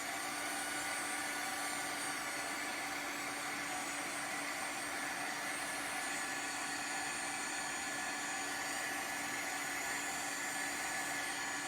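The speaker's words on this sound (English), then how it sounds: "you can definitely use your heat gun" A heat gun blows continuously over a gelli plate print to dry it, a steady loud airy whoosh with a constant motor hum and no pauses, heard alone throughout.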